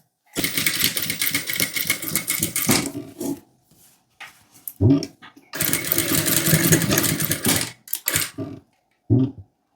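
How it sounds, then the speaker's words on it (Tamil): Sewing machine stitching hook placement lines along marked blouse fabric, running in two long bursts of rapid needle clatter separated by short pauses and brief taps, close and loud. "இப்போ நான் எங்கெல்லாம் மார்க் பண்ணியிருக்கணும் அதுக்கு மேலே தான் தையல் போட போகிறேன்"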